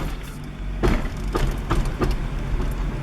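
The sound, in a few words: 1998 Acura Integra drivetrain clunking while turning in first gear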